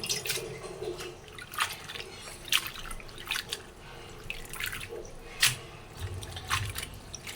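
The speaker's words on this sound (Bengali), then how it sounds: "শাকটা হচ্ছে ধুয়ে নিতেছি লাল শাকটা" Red amaranth leaves being rinsed in water, with irregular drips, splashes and squishy handling noises rising and falling over a steady background, close by and moderately loud.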